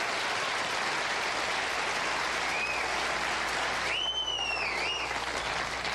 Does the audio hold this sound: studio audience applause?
yes